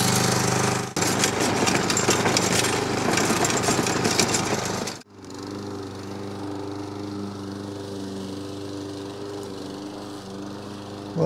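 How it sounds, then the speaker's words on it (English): A STIHL RM 655 VS walk-behind gas lawn mower runs loud and close for about five seconds with a rough, buzzing drone, then cuts back sharply to a lower, steadier engine hum that continues to the end. "All right, let's go mow."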